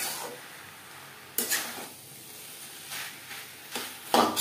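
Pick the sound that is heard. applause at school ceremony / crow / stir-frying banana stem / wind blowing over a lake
stir-frying banana stem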